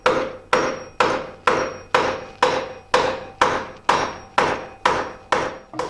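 A hammer strikes a Yerf Dog go-kart rear wheel on its axle shaft about a dozen times in an even, steady rhythm, each blow loud and close and ringing briefly.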